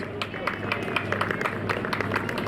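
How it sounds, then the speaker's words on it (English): An outdoor crowd at a 1940s-themed weekend event gives a continuous round of applause, even and moderately distant, with no clear voices over it. "can we give him a big round of applause?"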